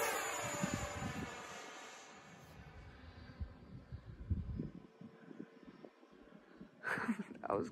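A Freewing 70mm Vulcan RC jet makes a low, fast pass, its ducted-fan whine sweeping past and fading, then surging close again at the end, with wind buffeting and people talking nearby.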